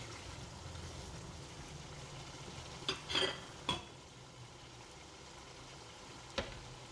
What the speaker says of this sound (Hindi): इसकी अच्छी तरह से हम भुनाई करते हैं।